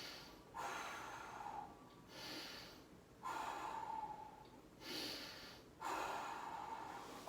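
Heavy breathing through the nose while holding a side bridge core exercise, propped on one forearm with knees bent: three slow, forceful inhale-exhale cycles, close and clear, with short quiet pauses between them.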